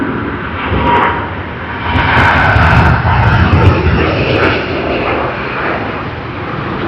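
An airliner takes off at Sydney Airport, its jet engines rumbling loud and broad with surging swells over several seconds. No one speaks.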